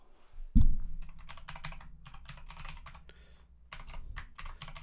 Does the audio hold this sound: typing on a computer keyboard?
yes